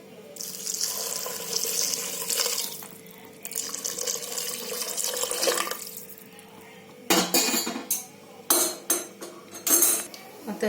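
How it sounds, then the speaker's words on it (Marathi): Hot water poured onto rice in a cooking pot for spiced masala rice, a steady running-water rush followed by several short splashy bursts and clinks near the microphone. "आपण पाणी घालते, गरम पाणी याच्यामध्ये"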